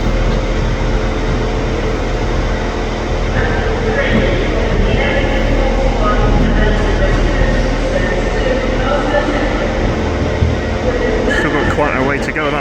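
An Avanti West Coast train at Preston station fills the platform with a loud, continuous rumble and rolling drone that lasts throughout, while a voice talks over it.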